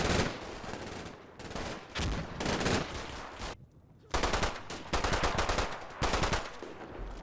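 A German machine gun fires in the World War II game Combat Mission Final Blitzkrieg. Loud, sustained bursts are broken by one brief pause before the heavy rattling resumes.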